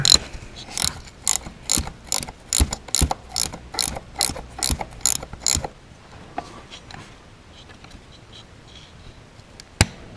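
A 13 mm wrench breaks loose the nuts on the transmission mounts of an M3 on a lift, with a quick burst of about a dozen sharp ratcheting clicks, then a quiet pause and one last click.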